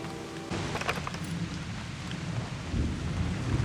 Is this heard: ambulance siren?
no